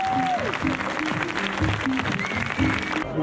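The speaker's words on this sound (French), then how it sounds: "vous allez me faire pour tous les bénévoles du Grand Trail du Lac un maximum d'applaudissements s'il vous plaît" Crowd applause for volunteers rises at the start area of a lakeside trail race, moderate in level and mixed with an amplified voice and some tonal background sound.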